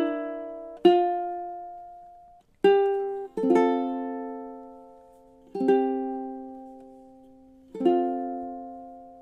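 Unaccompanied ukulele plays the second ending of a song: five plucked notes and chords, each struck cleanly and left to ring and fade before the next, at a slow, spacious pace.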